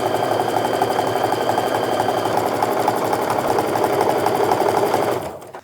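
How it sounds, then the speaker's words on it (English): A sewing machine runs fast and steadily while stitching quilt strip sets together, its needle chattering close and even for several seconds before it slows and stops. "Then you can just lift up your presser foot, feed in the next piece, and start sewing."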